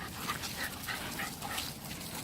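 A dog whimpers and gives short yips and barks close by during a morning walk, a steady run of high whines over outdoor background noise.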